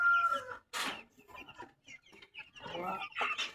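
Chickens in a backyard coop cluck and squawk in short overlapping bursts, fairly close, with gaps of quiet between calls.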